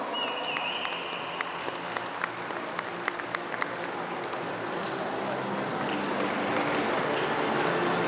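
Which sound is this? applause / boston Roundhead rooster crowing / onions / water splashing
applause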